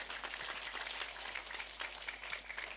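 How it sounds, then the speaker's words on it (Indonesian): Faint, distant applause for Islamic boarding school students at a religious gathering, an even wash of scattered clapping with a steady hum beneath and no voices. "Tepuk tangan dulu buat santrinya."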